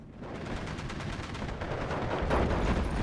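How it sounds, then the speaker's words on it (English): Grenadiers fire rifles in the WWII strategy game Steel Division 2, a rapid run of close gunshots that grows denser and louder into a sustained volley. "And then I move my grenadiers over so they can start shooting them as well without getting shot really."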